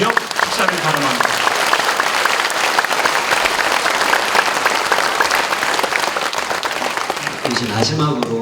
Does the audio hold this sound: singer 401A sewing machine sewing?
no